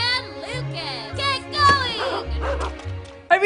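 Cartoonish dogs in the Wii game Jerry Rice and Nitus' Dog Football bark and yip in quick bursts alongside bright game music and effects, with whimpering tones between the barks.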